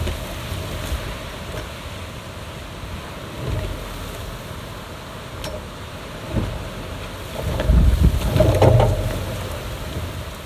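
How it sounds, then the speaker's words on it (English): Wind blows across an outdoor painting spot in the Blue Mountains, Australia, a steady broadband rush with low microphone rumble that strengthens into a louder gust near the end. "Heck, that's windy."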